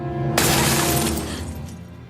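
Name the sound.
sugar glass breaking in a film scene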